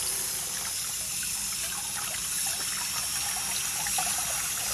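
Water trickles and runs steadily into a slowly draining sink, a faint, continuous stream with no talk.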